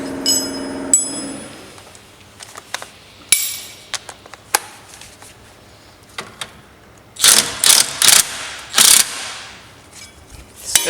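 Ratchet clicking in short bursts as a rusted rear shock bolt is worked loose on a 2004 Subaru Impreza GX, with scattered metallic knocks early on and several loud, rapid ratchet runs near the end, close up with no talking.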